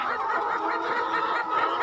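Young hens on a farm cluck and chatter continuously, a busy flock of soft overlapping calls heard close by.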